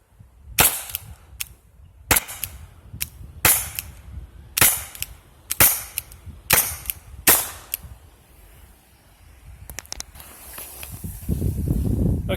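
An Umarex TR50 revolver fires one full cylinder, about eight sharp, close cracks spaced roughly a second apart. A rustle follows, then a louder shuffling noise at the end.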